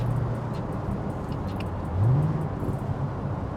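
Engine of a 2007 Ford Mustang GT500 pulling in fifth gear, a steady low drone with a brief rise in pitch and loudness around the middle, heard from inside the moving car with no talk.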